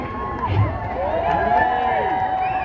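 Large outdoor protest rally crowd of around 4,000 people, a continuous murmur of many voices with scattered cheers and shouts, fairly loud and sustained.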